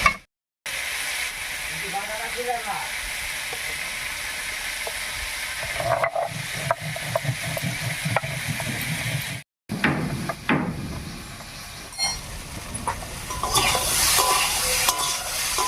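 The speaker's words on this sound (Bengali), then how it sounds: "আর ডাটাটা একটু ভাজা ভাজা মতো হতে থাক আর এই আমি একটু জিরা দিতে নিচ্ছি" Vegetable stalks and potatoes fry with cumin in a pan, giving a steady sizzle with repeated clatter of stirring and utensil knocks and scrapes; two brief dropouts interrupt it, and the sizzle grows louder toward the end.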